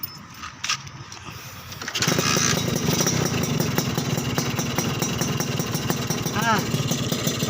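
A motorcycle engine is started after its carburetor has been cleaned, catching after a quieter moment and then running steadily at a loud, close idle with a rough, sustained rumble through to the end.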